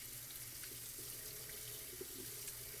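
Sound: cold tap water rinsing black beans in a colander

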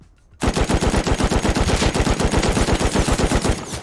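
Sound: gunfire in a video game

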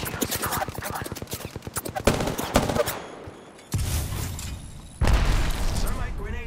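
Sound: gunfire in the video game Apex Legends

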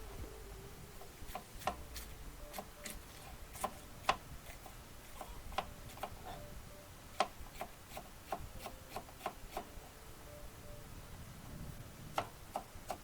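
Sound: chopping food with a knife for chickens

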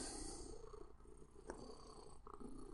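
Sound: cat purring while lying on arm

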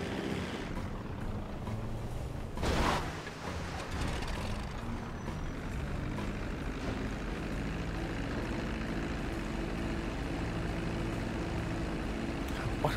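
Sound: airplane flying in the video game GTA V Online

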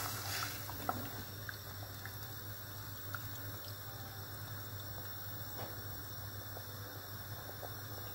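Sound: water poured over chickpeas in a pot

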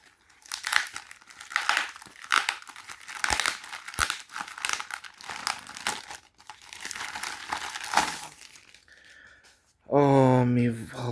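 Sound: opening parcels, tearing packaging

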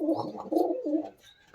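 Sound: Golden Teddy pigeons cooing

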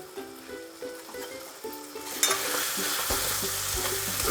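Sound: sautéing mutton curry with spices in a pan

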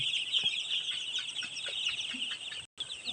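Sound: five-day-old chickens clucking

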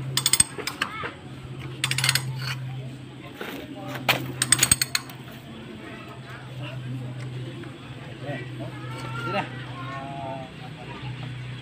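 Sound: tightening bolts on a Komatsu PC200 excavator boom

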